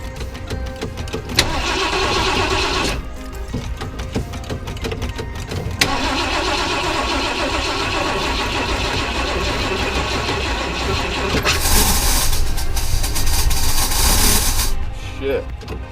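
A car engine, treated with starter fluid after sitting six months, cranks and then catches, running loud and rough with brief dropouts and surges before cutting out near the end.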